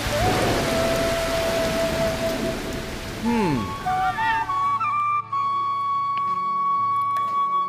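Pouring rain in an animated cartoon hisses as a dense, loud wash for about half the time before cutting away, while tonal musical notes sound over it and carry on after the rain stops.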